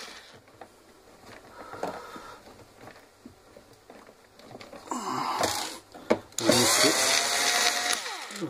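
A screwdriver removing screws from a multicooker's housing during repair, with faint scraping and squeaks that swell into louder creaking and grinding toward the end, close by and with no talking.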